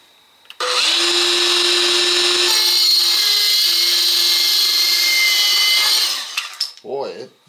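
Makita SH02Z 3-3/8 inch compact circular saw cutting wood, a loud high whine that holds steady for about five seconds before spinning down, with a brief voice right after.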